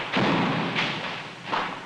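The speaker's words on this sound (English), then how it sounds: "This gunfire that you can hear is pretty close." Two or three heavy, booming gunfire thuds a moment apart during a Vietnam War firefight in 1968, fairly close and loud, with a rumbling tail after each.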